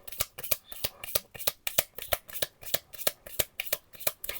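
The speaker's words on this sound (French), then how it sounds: "on va mélanger les cartes" A deck of cards being shuffled, a steady rhythm of crisp riffling snaps repeating about four times a second, close and clear with no talk.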